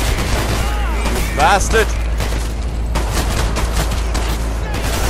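Rapid gunfire from the top-down shooter video game Hatred crackles in dense bursts under a steady low rumble, while someone shouts over it.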